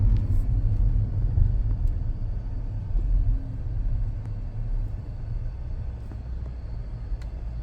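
A 2017 car in sport mode cruises along a freeway, giving a steady low road-and-engine rumble with tire roar that holds even throughout, with no voices.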